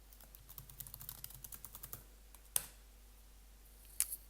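Rapid typing on a computer keyboard while setting up an editing project, a quick run of close, light key clicks for about two seconds, then quiet broken by two isolated sharper clicks.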